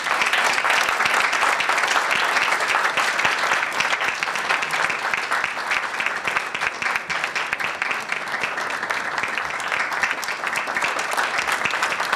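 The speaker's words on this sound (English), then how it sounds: "Let's make our applause loud for the Managing Director of Prime Time, Nanekia Ankoma Asare." Sustained, loud audience applause at a live national quiz competition launch event, dense continuous clapping from a large crowd for the managing director, with no speech over it.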